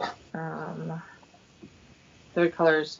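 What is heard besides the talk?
dog whimpering and yipping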